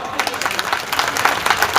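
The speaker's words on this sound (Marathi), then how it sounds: "टाळ्या वाजून ठराव मंजूर" A crowd at an outdoor celebration of the joint Phule and Ambedkar birth anniversary claps briskly in a short burst of dense, overlapping applause to approve a resolution.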